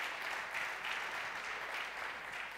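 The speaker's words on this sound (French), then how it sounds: "on peut l'applaudir, ça c'est sûr" Audience applause at the E-Commerce Awards 2014 prize ceremony, a steady wash of clapping from a crowd at a fairly low level, holding even for the whole stretch with no voices over it.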